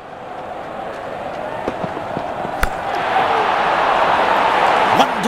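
A cricket bat strikes the ball on a big ground at the MCG, producing two sharp, isolated cracks amid a steady swell of crowd noise.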